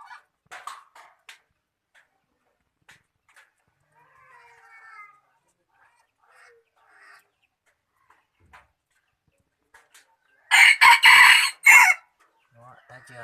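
A rooster in a rural yard gives a loud, close crow near the end after long quiet stretches, with scattered faint clucks and small noises from the chickens in between.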